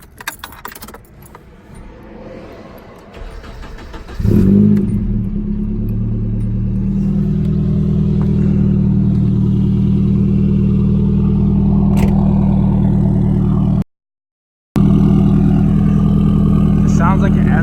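A Nissan 240SX fitted with a custom blast pipe exhaust starts with keys jangling, then its engine catches and settles into a loud, raspy, steady idle with throttle blips, cutting briefly to silence before resuming.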